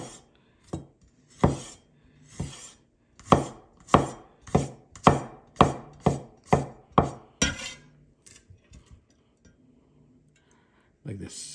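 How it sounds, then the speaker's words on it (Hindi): Garlic sliced finely with a knife on a chopping board for restaurant-style Chinese cooking, a quick series of about a dozen crisp, close taps in a steady rhythm that then trails off. "गार्लिक को आपने स्लाइस करना है"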